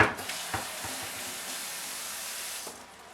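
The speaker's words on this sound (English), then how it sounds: "So now you want to have your sausage frying." Sausage frying on high heat in a pan, a soft, steady close sizzle with a few light clicks of stirring, fading slightly at the end, with no talk.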